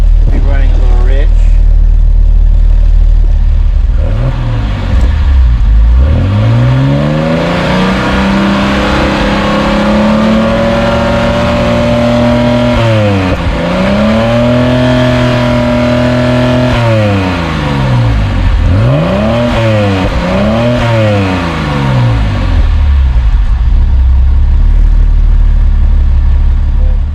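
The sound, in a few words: 1971 Mercedes-Benz engine running and revving after injector cleaning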